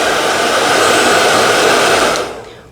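A hair dryer runs on its second, faster speed setting, a loud, close, steady rush of air that holds level and then winds down at the end, with no voices.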